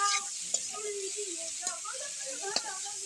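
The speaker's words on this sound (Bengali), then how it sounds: "লঙ্কাটা দিয়ে দেওয়ার পর নাড়াচাড়া করে নিচ্ছি ভালো করে" Vegetables with ground chili frying in a pan for a potato and cauliflower fish curry sizzle continuously at moderate level, while a utensil stirs them with several sharp scraping clicks against the pan.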